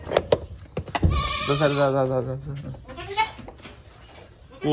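A goat bleats in wavering, nasal calls close by, with people talking and a few sharp knocks around it.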